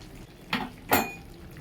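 Two quick metallic clanks as a lid is lifted off a cooking pot of jackfruit and vegetables, the second louder, in a quiet kitchen.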